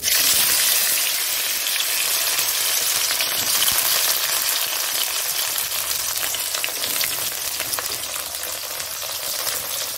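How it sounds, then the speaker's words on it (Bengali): Bitter gourd hissing and sizzling as it fries in hot oil with black cumin and dried chillies in a wok, a steady, loud, dense crackle lasting throughout without any talk. "উচ্ছেটা দিয়ে দিলাম, উচ্ছেটা লাল হয়ে ভাজা হবে।"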